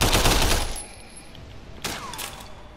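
Gunfire in the open-world action game Sleeping Dogs: a dense burst of rapid shots that tails off, then one more sharp report followed by metallic clinks and a brief whine.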